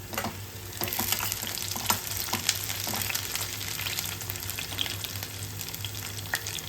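Onions and slit green chillies frying in hot oil for pepper chicken, a steady close sizzle with occasional crackles and stirring scrapes, no voices.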